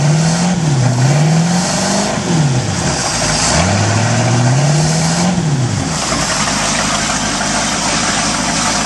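A Mercruiser 255 marine engine built on a Ford 351 V8 runs loud and close, idling with several rising and falling revs before settling into a steady rumble.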